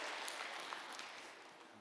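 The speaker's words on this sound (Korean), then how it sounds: "여러분 크게 박수로 환영하시죠" A church congregation applauds in welcome after a closing prayer at a children's Sunday service, a steady, fairly faint wash of clapping that fills the whole short stretch.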